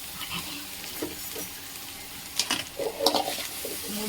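Maggi noodles and vegetables sizzle in a hot frying pan, a close, steady hiss broken by stirring scrapes and brief louder crackles.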